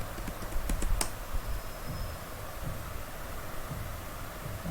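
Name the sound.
typing the route print command on a computer keyboard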